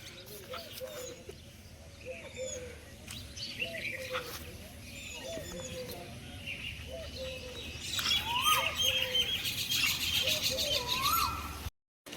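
Pigeons coo in a steady, repeating rhythm in a village on a morning, with other birds chirping and the surroundings growing busier and louder toward the end.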